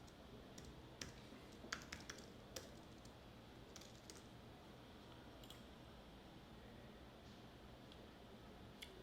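Soft, steady keystrokes on a computer keyboard, typed in quick irregular bursts of clicks at low volume with no talking.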